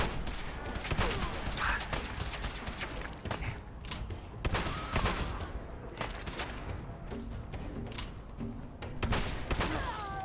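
Rapid bursts of gunfire in Fallout 4 VR, dense repeated shots and thumps filling the whole stretch with little pause, loud and close.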